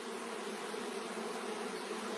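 Honey bees buzz on a brood frame full of larvae in a beehive: a dense, steady swarm hum, close and continuous for the whole stretch, with no voices.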